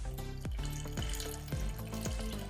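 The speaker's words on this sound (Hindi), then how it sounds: "थोड़ा सा मिक्स करने के बाद पानी शामिल करेंगे हस्बे ज़रूरत" Water is poured steadily and fairly quietly into a bowl of besan (gram flour) batter for dahi phulki. The trickle is continuous, with soft tonal sounds in the background.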